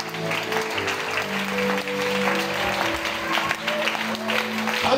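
Church congregation at an evening worship service applauding and cheering to acclaim the Lord, a steady wash of clapping with voices and sustained tones running continuously throughout.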